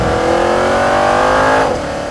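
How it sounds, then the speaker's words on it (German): An Audi S8's V8 engine roars steadily at high revs on a race track, a deep throaty drone that eases off toward the end. "Ein Achtzylinder, der laut brüllt."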